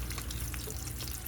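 Goat-free home cooking: food fries in a pan with a steady, close sizzle while it is stirred, the crackle continuous and fairly quiet throughout.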